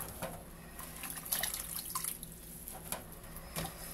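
Water running from a tap while food is rinsed, a soft continuous splashing with small bursts of handling, fairly faint and heard alone.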